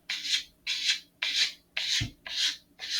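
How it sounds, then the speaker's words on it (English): A sanding block rubs along a model rocket body in long strokes, giving about six steady, evenly spaced rasping sweeps, close and fairly loud. "I'm taking longer strokes of the sanding block here instead of sideways"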